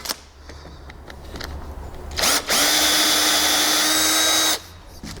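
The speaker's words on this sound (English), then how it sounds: "Now that we've done the drill hole" Power drill bores a hole in a fence post for a double-ended dowel screw, a steady high whine running about two seconds after a brief start-up burst, then stopping.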